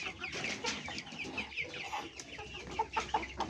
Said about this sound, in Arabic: بصوا الديوك